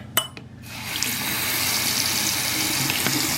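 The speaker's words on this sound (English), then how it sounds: "if you put water in there, it will come out" Water runs steadily through the water inlets of a Traxxas M41 radio-controlled boat, starting after a couple of sharp knocks and settling into a continuous close gushing hiss like a faucet.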